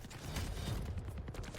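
Rapid machine gun fire rattles in the Quake video game during a Challengers EU/CIS semi-final match. It plays as a dense, continuous burst with no talk over it.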